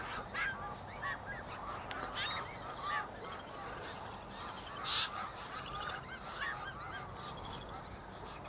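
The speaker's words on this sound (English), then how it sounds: "look at the choughs" Choughs feeding on scattered bird seed, giving a run of repeated harsh nasal calls at close range, some overlapping, with one louder squawk partway through and no talking.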